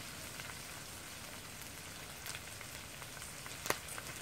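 Roughly chopped green chili frying in a fry pan for a fish curry, a faint, steady crackling sizzle with a couple of sharper pops near the end.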